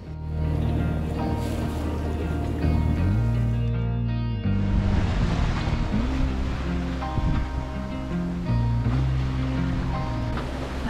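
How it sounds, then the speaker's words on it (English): A sailboat under sail at sea off northern Spain on an overcast day, making six to nearly seven knots: a loud, continuous rush of waves and wind against the hull with no talk. "we're actually sailing the first time in, feels like forever, and we're doing 6, nearly 7 knots sometimes"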